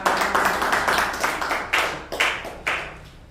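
A church congregation claps together in praise, a dense burst of hand claps followed by several bright, separate rhythmic claps at close range, with no speech over them.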